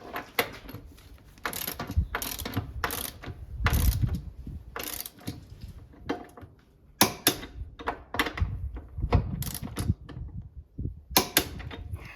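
A torque wrench ratchets close by, tightening bolts on a Porsche 911 (996) transmission carrier to the body, in repeated clicking bursts with pauses between, plus metallic handling clatter.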